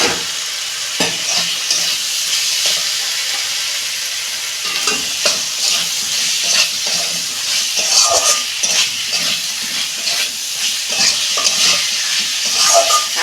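Vegetables for an egg curry sauté in a hot pan, a steady frying sizzle broken by repeated scraping stir strokes and light utensil clatter, close and continuous with no voices.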